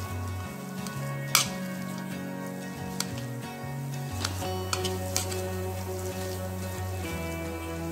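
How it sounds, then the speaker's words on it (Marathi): Potatoes and vegetables mashed into pav bhaji gravy in a pan with a masher, a continuous sizzle with soft stirring and occasional sharp taps, no talking. "स्मॅशरने छान स्मॅश करून घेऊ आपण ते बटाटा पूर्ण, म्हणजे छान मिक्स होईल ग्रेव्हीमध्ये"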